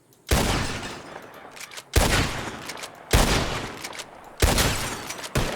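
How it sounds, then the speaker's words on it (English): Four loud revolver gunshots ring out in Red Dead Redemption 2 during a bottle-shooting contest, each sharp blast followed by a long echoing tail, spaced about a second apart. "The one who shoots the most bottles? Bottles. Wins. Just draw your gun and aim when you're ready."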